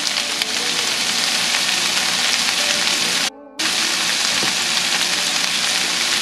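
Chili, tomato and turmeric fry for a mushroom and bean curry, giving a steady, dense sizzle from close by that drops out for a moment partway through and then returns.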